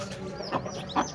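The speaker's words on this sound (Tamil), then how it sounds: "இந்த கோழிக்கு 6 குஞ்சுகள் இருக்குது." A country hen of the Peruvidai breed with her six chicks on a small farm, giving soft clucks over a steady low background, with two brief, slightly louder calls near the end.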